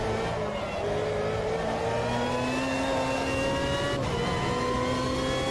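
Race car engine in AMS2 on the Jacarepaguá 2005 circuit, held at high revs and climbing steadily in pitch, loud and continuous with a brief gear-change dip near the end.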